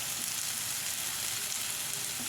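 Dried red chillies dropped into hot oil while cooking upma, giving a steady, dense sizzle and frying hiss close up with no pauses, no voices.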